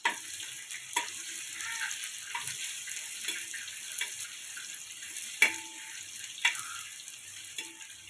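Sliced onion fries in a pan with a quiet, continuous sizzle, broken by several sharp knocks of a spoon or spatula against the pan at irregular intervals.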